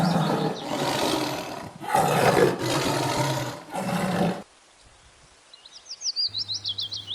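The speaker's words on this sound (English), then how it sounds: "T for tiger." A tiger gives several loud, rough roars in close succession, followed by a quiet pause and then faint chirping.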